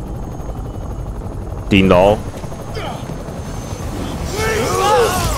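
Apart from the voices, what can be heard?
helicopter arriving in Marvel's Spider-Man video game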